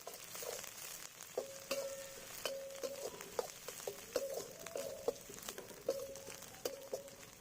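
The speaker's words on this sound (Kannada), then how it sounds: "ಚೆನ್ನಾಗಿ ಫ್ರೈ ಮಾಡೋಣ." Cinnamon, cloves, curry leaves and turmeric powder fry in a pan for chicken green masala, with a faint, steady sizzle broken by repeated light clinks and scrapes of a spoon stirring, and no talk.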